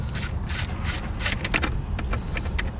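A wrench working a bolt on a Honda inverter generator during starter-rope repair, giving quick repeated ratcheting clicks and creaks, close and fairly loud, in short bursts.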